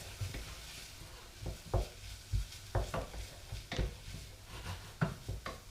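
Grated ginger gets stirred through a frying pan for a chickpea and spinach curry: a spoon makes repeated knocks and scrapes against the pan at an uneven rhythm, close up over a soft sizzle.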